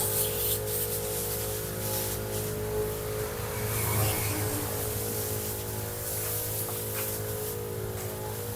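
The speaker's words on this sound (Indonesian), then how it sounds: "Kita semprot merata daun-daunnya supaya tidak berjamur atau dimakan ulat" A motorized pesticide sprayer runs on grape vines in front of a house, a loud steady engine drone with a hissing mist spray throughout.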